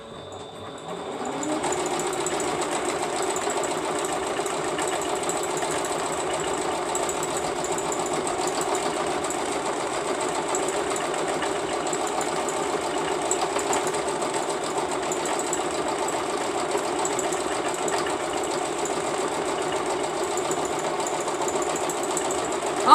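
A sewing machine stitches appliqué in one long, continuous, steady whirring run at close range, with no talk over it and a slight click at the very end.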